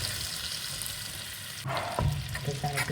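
Flour goes into warm olive oil and butter; a soft frying hiss runs first, then the sizzle jumps louder and busier as the flour hits the pan, with stirring scrapes.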